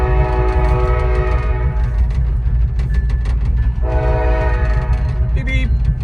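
A freight train passing near a road blows its horn in loud sustained blasts, with a shorter blast near the end. The horn sounds over heavy, rumbling engine and road noise heard from inside a car.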